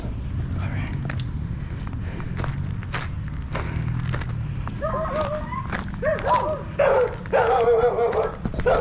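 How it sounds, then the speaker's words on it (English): Several dogs bark and yip along a running route past houses, the barks growing louder and closer toward the end over steady footsteps and background noise. "now I remember why I don't pass here anymore. There's lots of dogs here"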